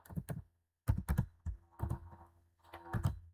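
Code is typed on a computer keyboard in short clusters of close, clacky keystrokes separated by brief pauses, with no speech.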